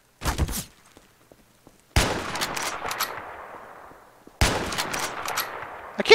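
Gunfire in Garry's Mod, a sharp burst of shots followed by two heavier, sustained volleys of rapid fire that ring out and decay, loud and close, with no talking.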